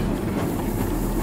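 A train rumbles past in the game Firmament, with a steady, close clattering roar over a short stretch.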